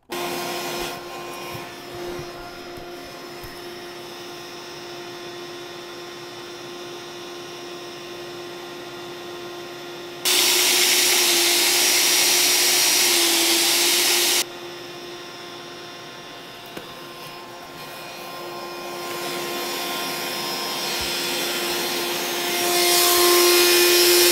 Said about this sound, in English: smoothie maker and we'll find out exactly how much noise this makes because this is quite a noisy machine